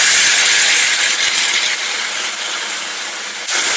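Loud, steady sizzling hiss from tamarind water hitting a hot pan with drumsticks, continuous throughout with a brief dip near the end.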